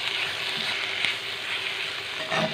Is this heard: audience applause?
no